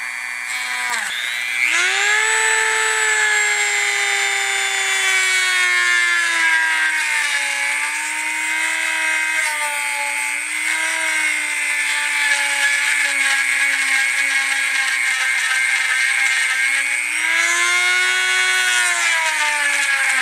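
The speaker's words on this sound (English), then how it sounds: "Alright, so we can go ahead and cut the glass." A rotary tool fitted with a cutoff wheel cuts through glass, giving a loud, steady, high-pitched whine that holds for about twenty seconds, with slight dips in pitch as the wheel bites into the glass.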